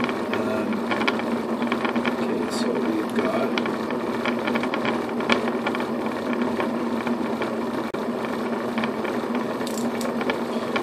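A small electric motor on an SSG bike free energy device hums steadily with a faint ticking, mechanical whir, running continuously at moderate level with no voices over it.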